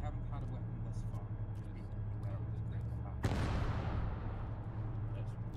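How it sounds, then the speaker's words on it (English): A rocket launcher fires in the military video game Arma 3, a sudden loud blast that rolls off into a fading rumble after a stretch of low background noise. "Sieltä päin tuli sinkoa"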